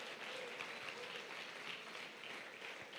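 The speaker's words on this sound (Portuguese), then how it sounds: "Rendam graças ao Senhor, aplaudam o Senhor." Congregation clapping in a church service, a dense, continuous wash of applause sustained evenly throughout.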